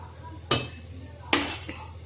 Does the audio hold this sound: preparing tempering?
yes